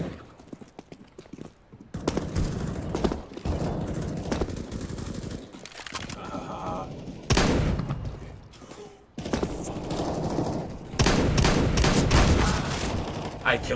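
Rapid bursts of gunfire in Counter-Strike: Global Offensive, loud and near, in dense clusters that keep breaking off and starting again, mixed with other game noise.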